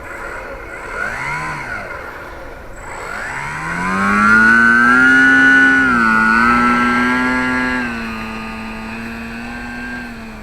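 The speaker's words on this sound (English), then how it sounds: "So do some taxi tests, see how this goes." A 72-inch RC Piper L-4 Grasshopper model plane engine running close by during a taxi test, with a harmonic whine that wavers at first, then climbs into a loud sustained drone before easing back to a steadier tone.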